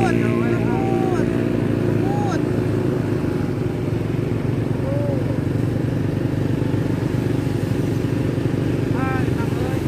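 A motorcycle runs at speed with a steady, loud engine drone and road rumble throughout, while people talk and shout over it.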